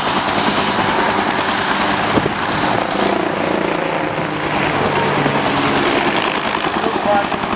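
Large transport helicopter flying at Portrush airshow, a loud, continuous rotor thrum and engine roar filling the scene, with talk faintly mixed in underneath.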